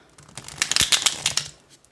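A deck of tarot cards being shuffled by hand, a quick run of crisp riffling bursts close by that builds and then fades over a couple of seconds, with no talk.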